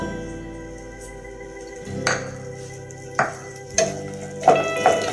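Okra dropped into hot oil for vendakkai rice, a quiet background hiss punctuated by several bursts of frying sizzle and clinks of a utensil against the pan, close by.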